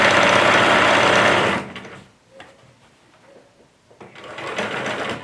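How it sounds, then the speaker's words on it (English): A sewing machine stitches fabric around a curve, running loud and steady for about a second and a half, stopping, then starting again softly near the end. "I'm going to start here and sew all the way around and stop"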